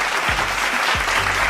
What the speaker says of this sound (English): Y'all clap it up for that man right there, brother.